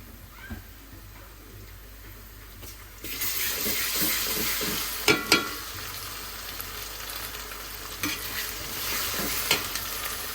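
Whole spices (bay leaf, clove, green and black cardamom, cinnamon, mace and star anise) hit hot oil after a quiet moment, starting a steady crackling sizzle broken by sharp utensil clinks and stirring.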